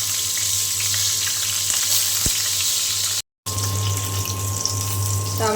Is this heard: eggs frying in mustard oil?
yes